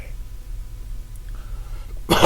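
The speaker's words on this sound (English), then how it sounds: "I had a cough." A single short cough bursts out at the very end after a quiet stretch.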